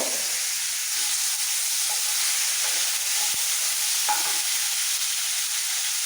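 Tomato chunks and garlic frying in a spice masala for paneer lababdar, giving a steady loud hiss of oil with a few faint clicks, and no voices.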